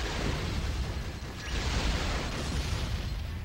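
Car exploding in the Twisted Metal vehicular combat video game, a dense sustained roar of blast and rumble lasting several seconds, loud and continuous with no voices over it.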